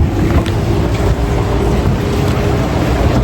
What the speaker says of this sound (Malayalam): ഞങ്ങളിപ്പോൾ ബോട്ടിലാണ്.